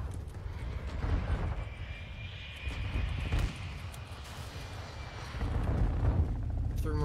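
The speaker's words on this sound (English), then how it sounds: "chopper gunner coming." A chopper gunner attack helicopter in a Call of Duty game, a continuous heavy rotor and engine rumble with booming bursts mixed in, loud and close.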